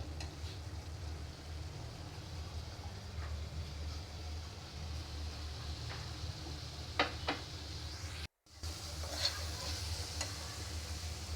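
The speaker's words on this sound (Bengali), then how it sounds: "এজন্য কষানোর সময় টমেটোটা দিয়ে দিলাম" Spiced masala with tomato for a rohu fish bhuna is sautéed in a pan, giving a quiet, steady low sizzle broken by occasional stirring clicks and scrapes, with a short dropout near the end.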